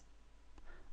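A single faint computer mouse click in a video editing program, short and quiet against near silence.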